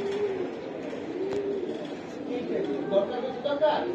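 Giribaz pigeons coo softly in a low, steady murmur over a busy background of general chatter, with a brief sharper call near the end.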